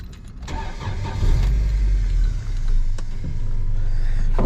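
An engine turns over and catches in a Honda EK hatchback fitted with a swapped B18 engine, then settles into a loud, steady, low rumbling idle close by.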